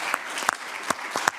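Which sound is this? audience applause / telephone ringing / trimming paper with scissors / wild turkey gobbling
audience applause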